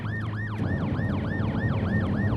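A police car siren wails in heavy snow during a 2011 Gangwon Province snow-clearing rescue, a rapid repeating yelp cycling about three times a second, loud and close over a steady engine rumble.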